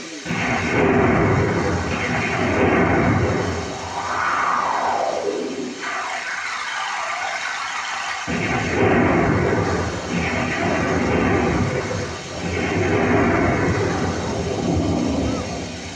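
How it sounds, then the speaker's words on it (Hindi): Thunder sound effect played during a Hindi devotional story recitation about a storm over Braj, with rolling, rumbling crashes that swell and fade repeatedly over sustained loud noise, and a brief drop midway before the rumbling returns. "अब तो बिजली कड़क रही है"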